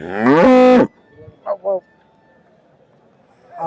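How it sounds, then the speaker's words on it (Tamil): A Kaari breed cow gives one loud, close moo, followed by a couple of short fainter calls and quiet farmyard background. "நல்ல காரி மாடு"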